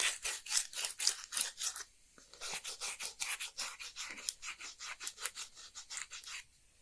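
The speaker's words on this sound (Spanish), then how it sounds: "luego continuaré con la lija del 60." Stone sculpture being sanded by hand with coarse 60-grit sandpaper, a steady run of rapid, close, raspy back-and-forth strokes with a short pause near the two-second mark, no voices.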